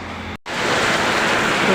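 Heavy, steady rain roaring as dense broadband noise, briefly cut off near the start, then continuing loud and unbroken to the end.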